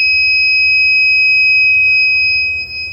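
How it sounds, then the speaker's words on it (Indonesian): A multifunction service tester's buzzer sounds a loud, continuous high electronic tone, held steady and alone before dipping briefly near the end. "ini buzzer sudah berbunyi ya"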